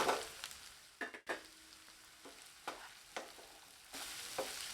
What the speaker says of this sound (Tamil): இது கூட நறுக்கி வச்சுருக்கிற 200 கிராம் பன்னீரை சேர்த்து நல்லா கலந்து விட்டுக்கலாம்.